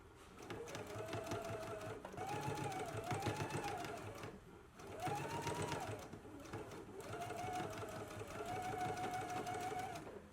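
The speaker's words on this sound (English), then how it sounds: "now we can stitch at a 5/8 of an inch seam allowance" A sewing machine stitches the side seams of a McCall's M8509 garment at a 5/8-inch seam allowance, running in close bursts of rapid whirring that pause briefly and start again while a voice talks faintly in the background.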